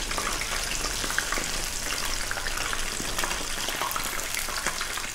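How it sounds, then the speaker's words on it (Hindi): Mushroom pieces fry in hot oil for mushroom kabana, a loud, dense, unbroken hiss and crackle that holds steady from start to finish. "इसी तरह हम अपने सारे मशरूम फ्राई कर लेंगे।"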